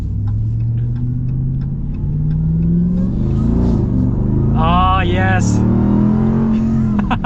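The engine of a 2023 Ram TRX truck on its stock exhaust drones low and rises in a deep rumbling rev, loud and close, with a voice exclaiming briefly over it.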